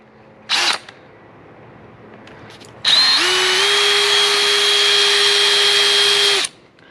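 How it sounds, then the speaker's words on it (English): A short burst from a power drill with a masonry bit, then a steady high-pitched drilling whine lasting several seconds before stopping abruptly. "We're going to drill our hole with a masonry bit."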